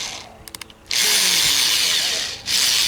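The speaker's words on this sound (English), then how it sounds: "and I take my drill." Handheld power drill on a deck rivet line: a few quick clicks, then the motor whirs up loud and steady for about a second and a half, stops briefly, and spins up again.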